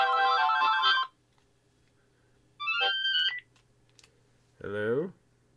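A phone ringtone plays indoors in three separate bursts with short silent gaps between them, fairly loud and close.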